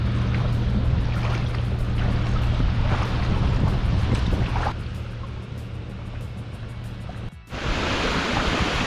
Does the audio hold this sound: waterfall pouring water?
yes